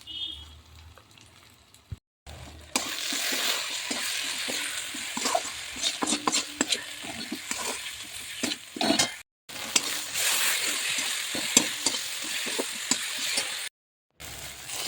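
Tomato frying in a pan with salt, turmeric, coriander, cumin and dried chili, loud steady sizzling broken by repeated scraping stirs, with brief pauses where the sound drops out.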